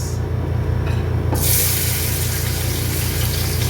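Garlic dropped into hot cooking oil for pancit in a large pot, a loud, close, continuous hiss and sizzle that brightens and intensifies partway through, with steady low rumble beneath and no talking.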